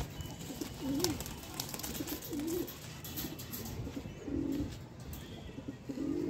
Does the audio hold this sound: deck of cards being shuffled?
no